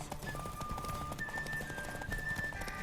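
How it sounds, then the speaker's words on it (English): A horse in The Witcher 3 clip-clops at a trot, with quick rhythmic hoofbeats over game ambience and a brief neigh, fairly faint overall. "Want that horse, don't ya?"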